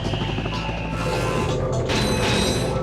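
The suck cannon weapon in Ratchet & Clank on PS1 whooshes and rumbles as it draws in enemies, then fires with a mechanical crashing burst, all dense and loud game audio.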